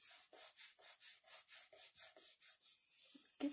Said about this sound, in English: Give it a bit of a rub because I just want to make sure all the edges stick.